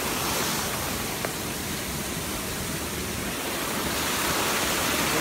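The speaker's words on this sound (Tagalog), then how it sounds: "Pupunta kami dito sa fountain under this bridge." Water from a fountain under a bridge pours in a steady, dense rushing hiss, loud and close, continuous throughout with no voices.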